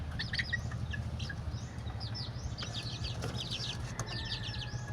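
Backyard chickens feeding on sweet potato, with soft clucking and a low murmur of birds close by, overlaid by a busy chorus of high chirping birdsong throughout.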